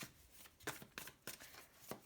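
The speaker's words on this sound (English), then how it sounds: "One last shuffle." A deck of tarot cards is shuffled by hand, giving quiet, close riffling and slapping bursts in an irregular rhythm with no talking.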